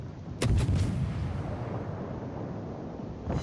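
A warship cannon in the naval combat game War of Warship fires at a target, letting out one heavy, booming blast that rolls into a long rumbling decay, with another boom starting right at the end.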